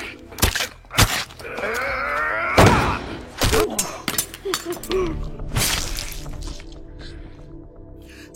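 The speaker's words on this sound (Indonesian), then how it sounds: "tiba-tiba melihat semua itu pecah ditembak Ata" In an action-film fight, gunshots shatter glass, giving sharp bursts of breaking glass and thuds amid grunts and groans. Dripping and debris sounds follow.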